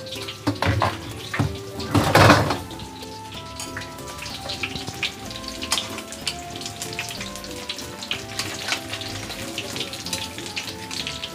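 Dalag mudfish cooking in a pan for putchero, a steady wet sizzle and crackle of frying with a louder burst of spattering early on, then settling to a continuous soft bubbling hiss.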